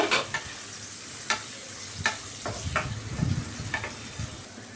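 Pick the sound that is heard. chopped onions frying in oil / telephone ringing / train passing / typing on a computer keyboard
chopped onions frying in oil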